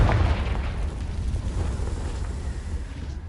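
A Confringo spell explosion in the Hogwarts Legacy video game bursts with a heavy boom and then a rumbling, crackling tail that fades gradually over a few seconds.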